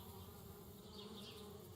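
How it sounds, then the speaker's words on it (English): Bees buzz steadily around a tree house in the video game Anna's Quest, a dense continuous drone with no voices over it. "Darn bees, trying to move into our tree house."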